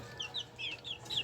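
Hens cluck in a small backyard poultry pen, with several short, close clucks and murmurs in an uneven rhythm and no voices over them.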